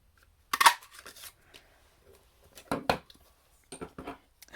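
Scissors snipping through patterned designer-series paper while cutting out a card layer, a few crisp close cuts in short bursts with quiet gaps between them.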